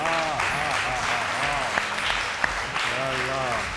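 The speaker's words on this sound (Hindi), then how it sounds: "बहुत सारी तालियां" A studio audience applauds a very young speaker at a debate event, a steady wash of clapping heard under a presenter's continuous talk.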